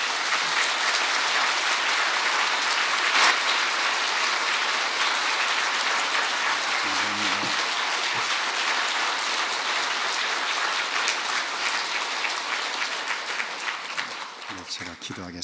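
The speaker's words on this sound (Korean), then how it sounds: "제일 큰 박수로 맞아주시기 바랍니다" A congregation at an evening church revival service gives long, loud applause, a thick steady roar of clapping that holds for many seconds before tapering off, with a voice briefly heard through it.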